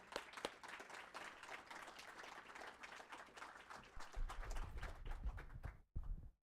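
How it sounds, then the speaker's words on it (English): An audience at a college open house gives a speaker a warm round of applause: dense, steady clapping from many hands that swells slightly, then cuts off abruptly before a brief final flurry. "So give a warm round of applause to Dr."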